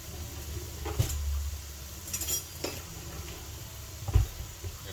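Minced onions sautéing in a pan for a smoked chicken and spinach Alfredo lasagna, a soft, steady sizzle under a few utensil scrapes and clinks against the pan, with no talking.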